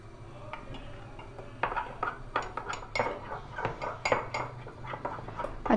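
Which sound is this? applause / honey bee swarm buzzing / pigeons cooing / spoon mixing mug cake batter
spoon mixing mug cake batter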